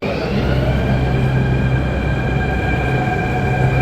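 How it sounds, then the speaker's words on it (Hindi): A Delhi metro train arrives at the station with a loud, steady rumble and a high electric hum that holds evenly throughout, with no talking. "हम चलिए मेट्रो आ गया, ये रहा मेट्रो हमारा"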